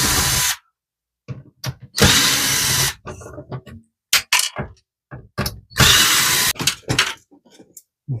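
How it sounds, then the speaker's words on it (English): An HP Deskjet 4155e printer is taken apart as a power screwdriver whirs in several loud, close bursts to back out screws, separated by sharp clicks, rattles and handling clatter. "What we'll need to do is just remove a few screws."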